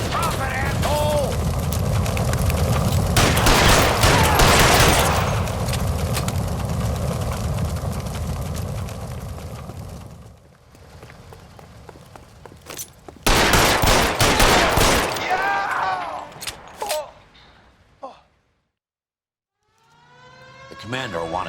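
Gunfire in a 1940s Los Angeles police shootout in the video game L.A. Noire, dense bursts of loud rapid shots in long volleys with brief pauses, mixed with shouting voices and a siren-like wail.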